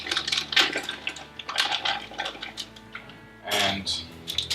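Hops are stirred into hot wort in a Grainfather brewer, giving bursts of metallic scraping, clinking and sloshing separated by short pauses, with a voice speaking nearby.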